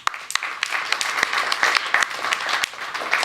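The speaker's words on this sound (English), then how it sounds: "I want to give an opportunity to give yourselves a round of applause" Conference audience applause during a Planetary Society advocacy event in Washington, many hands clapping in a sustained patter with a few sharp close claps standing out.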